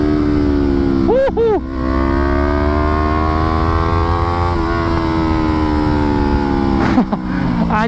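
A motorcycle engine held at full throttle gives a loud, sustained, nearby drone that rises slightly in pitch, with wind rush and brief voices over it.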